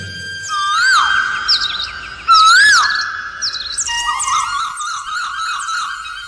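A koel calls during an Odia village drama scene, loud repeated rising whistled notes layered with quicker chirping bird calls, with no voices.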